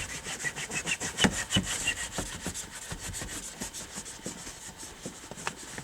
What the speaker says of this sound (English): we're just going to scrub the whole window and pay more attention to the bottom of the window